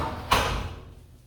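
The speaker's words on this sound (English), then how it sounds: "And we unlock this door" A door at a luxury Hawaii residence is unlocked and swung open, giving one sharp close clack and then a brief fading rumble.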